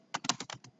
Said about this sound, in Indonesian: Kita ganti dengan mengetik